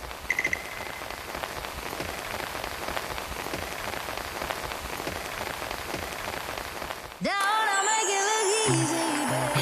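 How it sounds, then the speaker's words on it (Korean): Steady autumn rain pours down on an afternoon, an even patter that runs for several seconds before music takes over. "가을비가 주룩주룩 내리는 오후입니다."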